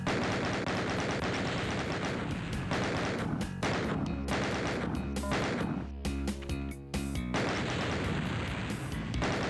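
Rapid minigun fire from the 1993 video game Doom rattles loudly and continuously, broken by short gaps and mixed with crashing impacts.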